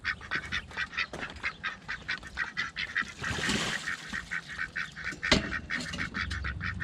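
Ducks quack in rapid, repeated bursts, several birds calling over one another at close range with little pause.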